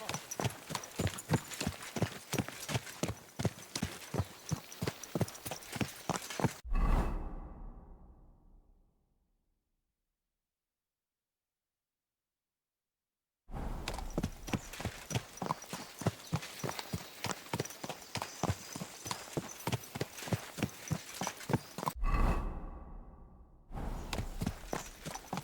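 Rhythmic clip-clop of horse hooves in the video game Kingdom Come: Deliverance II at a steady walking pace, crisp and close, stopping into silence midway before the regular hoofbeats resume.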